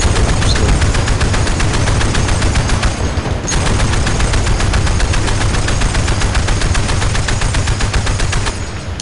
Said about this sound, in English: I'm just shooting anyway